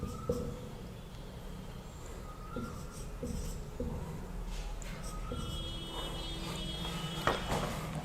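A pen or marker writes out a math question on divisibility during a lesson, with light scratching strokes and taps throughout, faint and steady, and a few soft bumps.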